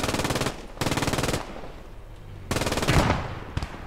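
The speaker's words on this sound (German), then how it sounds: "Hier rechts, was MG schießt." Machine gun fire from the video game Post Scriptum, set in the town of Carentan: three loud, sustained bursts of rapid shots, with quieter distant gunfire and faint low rumble in the gaps.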